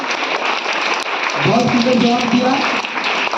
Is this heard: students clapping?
yes